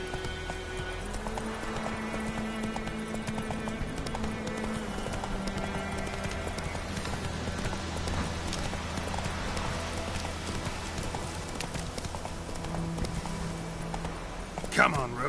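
A horse galloping in the video game The Witcher 3, with steady, continuous clip-clop hoofbeats over game music and ambience, ending in a brief louder burst.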